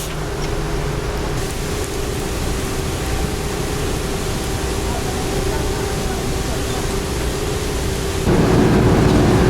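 Heavy rain pours down on the open front deck of a boat crossing from Phuket to Koh Samui, a steady roaring wash of water that swells louder near the end.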